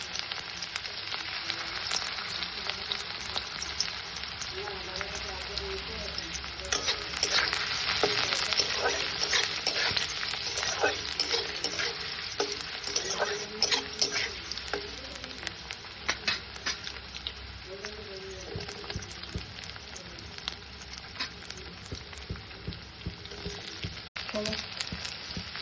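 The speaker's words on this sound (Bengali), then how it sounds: "বাদামটা ভেজে তুলে নিয়ে তারপরে দিয়েছিলাম গাজর" Carrot pieces fry in hot oil in a pan after peanuts have been roasted and removed, a continuous loud sizzle with scraping stir strokes and crackles, close and steady throughout.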